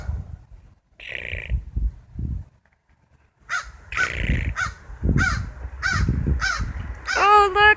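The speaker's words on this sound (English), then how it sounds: "Oh, look, we got another crow." A crow caws repeatedly and loudly at close range, the calls coming in a quick series with short gaps between them, while a person talks in between and at times over the calls.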